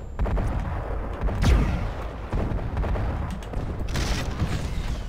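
A single heavy gauss cannon shot fires in MechWarrior Living Legends on an urban jungle map, one loud booming blast with a descending tail under continuous rumbling battle noise.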